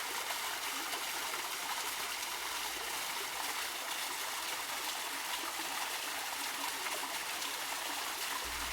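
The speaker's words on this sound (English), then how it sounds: "waterfall, which is just so beautiful and so peaceful" Water spilling steadily from a waterfall into a garden pool, a continuous, even rush and trickle heard up close with no break and no voices.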